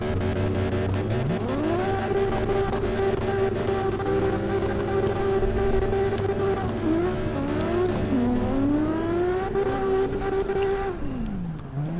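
Toyota Supra MK4 drifting in the CarX Drift Racing Online video game: a loud, steady engine note climbs and holds under sustained tire squeal, then drops and dips through transitions before a final deceleration, with no talking.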